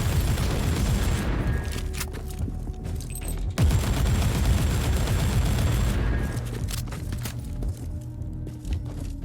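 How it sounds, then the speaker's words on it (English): Sniper fire in the video game Warhammer 40000 Inquisitor Martyr comes as a dense barrage of heavy shots and booms, loud and continuous, with sharp cracks cutting through a rumbling battle din. "Snipers are shooting me."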